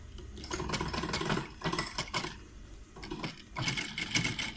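A single-needle flatbed industrial sewing machine runs in several bursts, its fast steady needle chatter starting and stopping with brief pauses, close and fairly loud with no talk.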